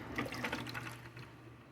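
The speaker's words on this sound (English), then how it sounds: "Pour it right into your blender." Coffee pours into a blender in a steady, close stream, a soft continuous splashing with a low hum underneath.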